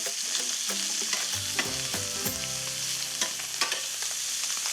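Diced onion stirred into sausages in a hot pan gives a steady loud sizzle, with scraping stirs and clinks on top, close and continuous, no talking.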